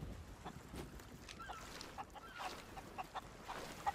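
Chickens cluck and squawk in short, scattered calls in a Sea of Thieves game world, fairly faint over a soft outdoor background.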